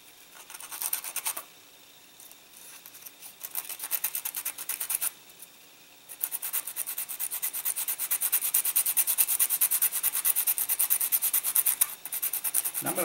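Sandpaper rubs over the plastic leg of a King Ghidorah model kit figure in close, rhythmic scratching strokes, with two short pauses before a long steady run of sanding.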